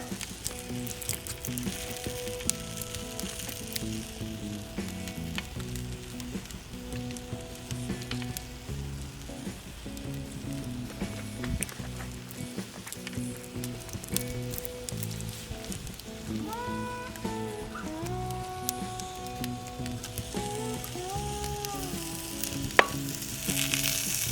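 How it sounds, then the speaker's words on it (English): Korean-style ribs sizzle steadily on a barbecue at a cookoff, a continuous close frying hiss with crackles and pops and no talk. "Sizzling away."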